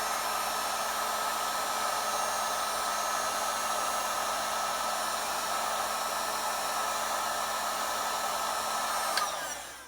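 A heat gun set on low heats vinyl wrap on a car hood during a Vanquish Ripper hood install, giving a steady, loud blowing whir that holds unbroken and cuts off at the end.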